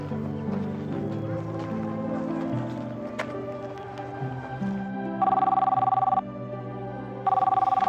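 A telephone rings in an Indonesian TV drama scene, starting with music and bustle before two steady electronic ring bursts sound close and clear, separated by a short pause.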